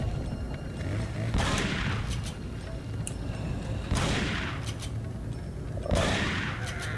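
Shotgun blasts in Resident Evil 4, three loud booming shots spaced a couple of seconds apart over a steady rumbling game background, with no voices.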